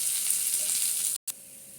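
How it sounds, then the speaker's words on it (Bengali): Sea fish frying in hot oil, a steady close-up hiss and sizzle that cuts out completely for a brief moment near the end before resuming a little quieter. "দর্শক দেখতে পাচ্ছেন মাছগুলো ভেজে ফেলছি, আবারও কয়টা আছে এগুলো ভেজে ফেলবো"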